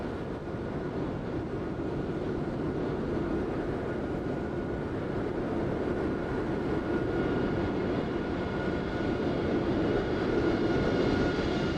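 A KLM Dreamliner in Microsoft Flight Simulator 2020 at Frankfurt gives a steady, broad jet engine roar that holds at an even level throughout with no talk.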